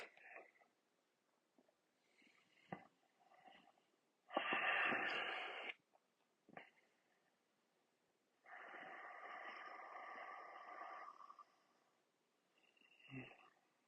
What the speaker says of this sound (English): Dial in your Ujjayi breath.